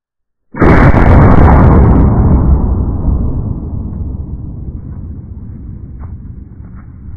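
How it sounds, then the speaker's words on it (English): A single loud, close shot from an 1887 lever-action rifle chambered in 70-150 WCF, fired into a bunch of logs. The sharp blast trails off into a long, fading outdoor rumble. "So let's shoot this bunch of logs and see what happens."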